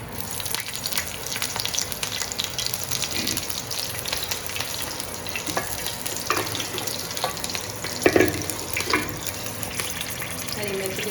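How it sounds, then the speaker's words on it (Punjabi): Green chillies fry in three spoonfuls of very hot oil, making a loud, constant crackling sizzle that spits throughout, with a voice talking faintly over it. "ਤਿੰਨ ਚਮਚ ਆਪਾਂ ਤੇਲ ਦੇ ਪਾ ਕੇ ਗਰਮ ਕਰ ਲਏ ਨੇ ਉਹਨੇ ਦੇ ਵਿੱਚ ਆਪਾਂ ਪਾਵਾਂਗੇ ਹਰੀ ਮਿਰਚ"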